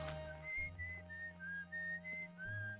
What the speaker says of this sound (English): Guy whistling up there.